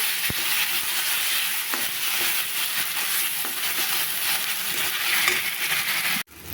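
Mustard masala with chili, turmeric and salt fries steadily in a pan, a continuous loud sizzle with occasional light spoon taps and stirring, ending with a sharp clack and sudden drop in the sizzle.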